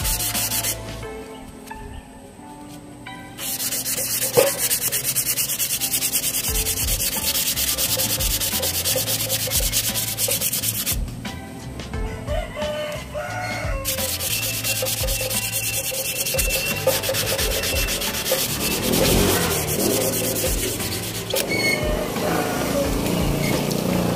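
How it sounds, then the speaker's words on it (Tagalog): Steady abrasive scraping of sandpaper rubbed back and forth over a rusty metal motorcycle chassis, loud and close, continuing without pause throughout. "Gamit itong liha."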